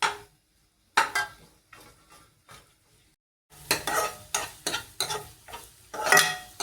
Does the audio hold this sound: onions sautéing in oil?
yes